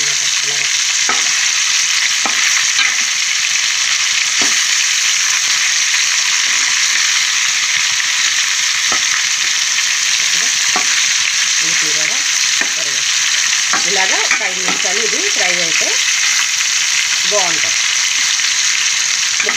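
Pieces of fish frying in oil in a pan for a pandu meena fish curry, a loud constant sizzle with occasional spatula clinks and stirs, while someone talks over it intermittently.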